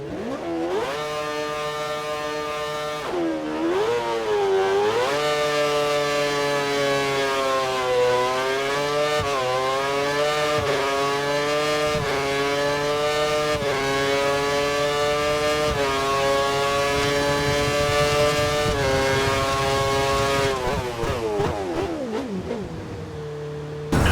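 Formula 1 car from the F1 2013 racing game on a wet track, its engine holding a loud, steady high-pitched whine with a dip near the start and revs rising and falling, then winding down at the end; no talk.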